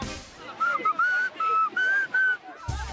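Someone whistles the Happy Birthday tune in a clear, steady melody of sustained notes with short pauses between phrases, up close and alone, during a team course challenge at a Samoan community event.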